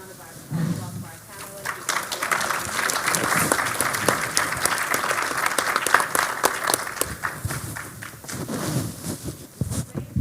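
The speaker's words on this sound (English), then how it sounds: "another round of applause for our" A room of attendees at a Houston multiple myeloma community event gives a sustained round of applause, thick and even throughout, while voices talk and call out over the clapping.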